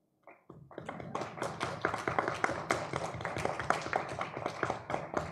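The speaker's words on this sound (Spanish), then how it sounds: "yo tengo aquí ahora aplausos." A small group claps together in quick, irregular rhythm at a Spanish talk on 1920s fashion history, starting abruptly after a brief pause and continuing close and lively to the end.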